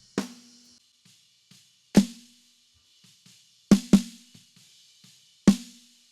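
Snare drum hits with rattling wires, sparse and punchy, a few loud strikes with quieter ghost notes between them, heavily processed with a bright crack.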